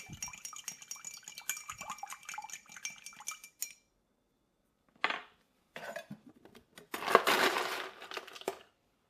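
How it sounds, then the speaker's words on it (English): Clinking of metal and ice in a glass as a creamy bourbon cocktail with milk and vanilla is stirred, a busy run of close clatters, a pause, then louder scraping bursts near the end. "Give this a good stir."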